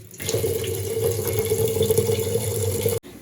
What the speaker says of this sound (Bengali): চালা ডাল ধুয়ে এখন বসিয়ে দিব পাতিল ভর্তি করে জল দিয়ে